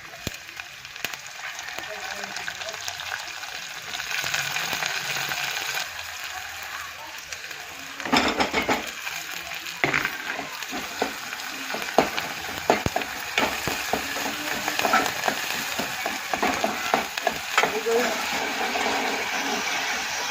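Onion and tomato frying in a pan for a Gujarati dal tempering: a steady sizzle runs throughout with scraping stirs and clinks, and speech is heard intermittently over it.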